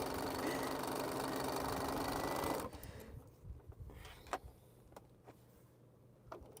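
A sewing machine stitches down a fold with white thread on a test quilt piece, running as a steady close whir for a few seconds, then stopping, followed by quiet clicks and handling.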